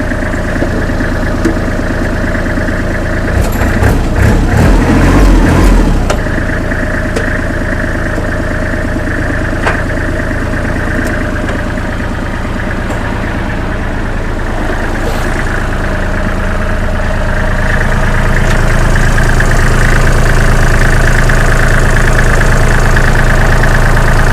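A Kubota L3408DT tractor engine idles steadily and loud up close, with a brief rougher burst early on before settling into an even diesel drone.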